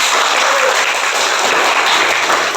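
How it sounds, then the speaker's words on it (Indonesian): Applause from a class at the close of a school lesson, steady hand clapping from a group of students filling the whole short stretch, close and fairly loud with no talk over it. "beri aplaus dulu untuk kita semua hari ini"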